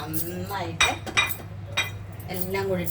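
Spoon scraping and clinking against a pan while kesari is stirred with fried cashews and raisins: a few sharp metallic knocks at irregular intervals over a low background hum, with a voice talking in between.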